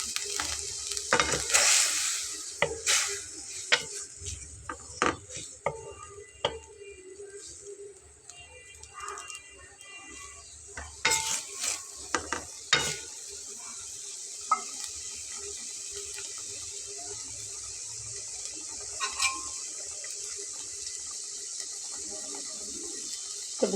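Fried pointed gourd (potol) sizzles steadily in a hot pan for a vegetarian dish, with scraping and stirring clatters from a spatula breaking through the continuous frying hiss, close and moderately loud.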